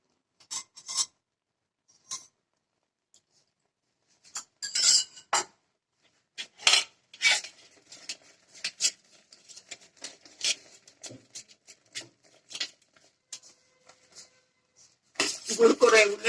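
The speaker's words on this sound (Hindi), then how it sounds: "गुड़ को रेगुलर चलाते रहें, क्योंकि अगर आपकी हैवी तले की कढ़ाई नहीं होगी तो गुड़ नीचे तले में लग सकता है।" Jaggery being stirred in a heavy-bottomed kadhai, with intermittent scraping and clinking of a spoon against the pan in uneven bursts and quiet gaps, ending in a louder flurry of scraping.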